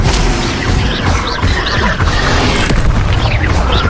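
Incendio fire spell blasting in the video game Hogwarts Legacy, a loud, dense burst of booming fire and crackling impact filling the whole moment with no pause.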